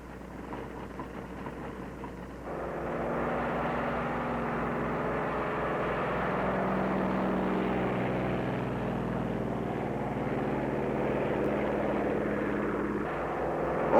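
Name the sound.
control planes taking off from an aircraft carrier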